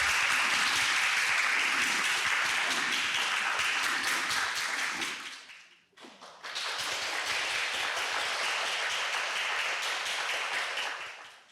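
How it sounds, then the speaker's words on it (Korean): An audience in a Seoul National University library claps at an archive agreement signing ceremony, with two bursts of full, steady applause separated by a brief dip and pause midway. "박수를 부탁드립니다."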